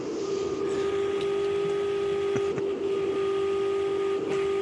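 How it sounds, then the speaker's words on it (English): A paper shredder's motor runs with a steady, continuous whine and hum that never lets up, with faint clicks scattered across it. "Paper shredder."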